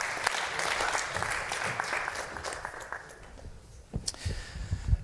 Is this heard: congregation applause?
yes